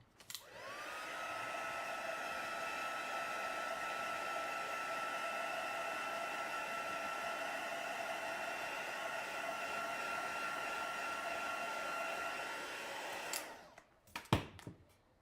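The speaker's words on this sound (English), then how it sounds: "Now am just going to dry that quickly with my heat tool." A craft heat tool dries ink on a handmade card, giving a steady whirring hiss that rises quickly and holds for about thirteen seconds before switching off, followed by a couple of small knocks.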